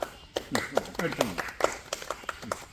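Clapping at a school event at Nirmala HSS Erumamunda, scattered claps and taps rising and falling under a voice speaking through the whole stretch.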